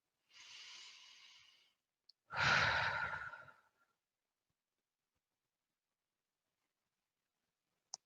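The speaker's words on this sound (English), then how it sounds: "Take a couple of deep breaths." Deep breathing during a meditation practice: two close breaths, a softer inhale followed by a louder, fuller sighing exhale, then long silence.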